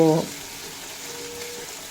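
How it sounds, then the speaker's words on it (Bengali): Cut, washed potatoes frying on a medium flame in a Bengali raw-banana dish, a steady soft sizzle running throughout after a brief burst of voice at the start. "কেটে ধুয়ে পরিষ্কার করে রাখা আলু দিয়ে পর লটু মিডিয়াম ফ্লেমে রেখে দুই থেকে তিন মিনিট মতো ভেজে নেব"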